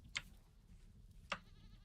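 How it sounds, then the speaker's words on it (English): Two short goat bleats from the video game Vintage Story ring out about a second apart, fairly clear over a low ambient background hum. "I can hear like some goats and stuff"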